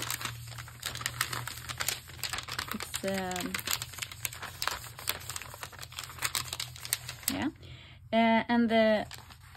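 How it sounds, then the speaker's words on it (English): Thin Tomoe River paper pages in a Hobonichi planner crinkle and rustle in quick, scratchy bursts while someone talks, with a couple of short squeaky sounds in between. "I like it when you can hear the paper sound."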